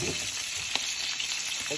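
Pork pieces fry in a pan with a dense, steady sizzle and crackle close up, punctuated by a few faint clicks, with no talking.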